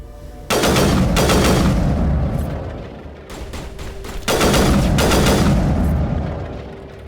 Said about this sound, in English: I want to shoot my gun